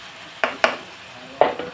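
Eggplant pieces are stirred into a sizzling onion-paste curry in a pan, with a soft frying hiss and three or four sharp clinks of a spoon against the pot, close and without talk.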